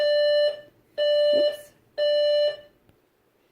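A morning alarm goes off with three loud, evenly spaced electronic tones, each a sustained half-second pitched beep, in a quiet room; a brief spoken exclamation follows.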